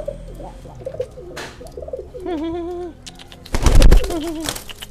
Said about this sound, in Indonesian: tuh ada yang mau bekur buat manasin teman